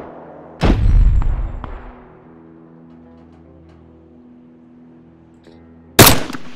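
Two heavy gunshots from a firearm in DayZ, a loud booming blast with a long echoing tail, then another sharp shot near the end.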